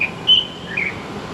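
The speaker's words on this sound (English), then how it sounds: "Trying to see the bird, what kind of bird it is." A bird sings outdoors in Taipei, a few clear whistled notes rising over steady city background noise, moderately distant.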